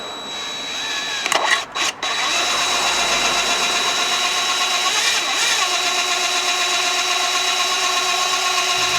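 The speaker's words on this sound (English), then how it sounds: "then I started drilling." A power drill whirring steadily as it bores through a plastic brake light housing on a GR86/BRZ, a few short bursts followed by a continuous close-up drone.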